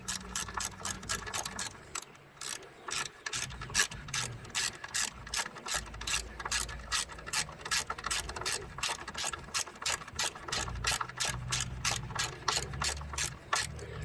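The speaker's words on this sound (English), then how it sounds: "put your finger on the side of the socket and it'll hold it in place so you can ratchet it to keep going" Ratchet clicking rapidly and steadily while turning a socket on a brake bolt of a 1994-2002 Dodge Ram during a rotor change, close and crisp with a few brief pauses.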